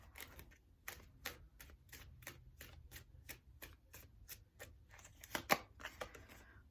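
Tarot cards are shuffled and drawn in a quick run of crisp, rhythmic flicks and snaps. The sound is faint and close, with a sharper riffle near the end.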